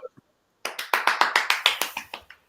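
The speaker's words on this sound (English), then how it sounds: "Y'all better clap. I'm clapping." An audience at a live show claps in a quick, steady run of sharp, distinct claps, loud and close, after two faint taps at the start; no talking over it.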